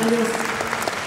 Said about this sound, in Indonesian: Oke, boleh tepuk tangan dulu.